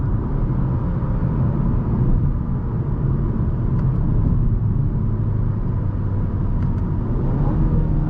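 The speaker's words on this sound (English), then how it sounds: "Try to downshift here." 2018 Mazda 3 Grand Touring on a highway exit, steady engine rumble and road noise from inside the cabin as it downshifts via paddle shifters, engine note shifting slightly, continuous and moderate.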